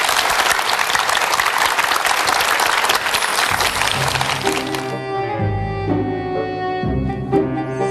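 A studio audience at a TV lecture breaks into loud, sustained applause that fades out after a few seconds, leaving a soft tonal music sting.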